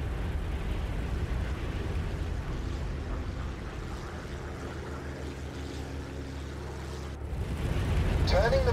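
Steady roar of a warplane jet engine on afterburner in the Birds of Steel flight game, a sustained loud rumble that cuts out briefly near the end, then swells again.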